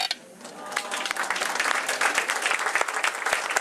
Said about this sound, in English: Let's have a round of applause, another round of applause for our guests.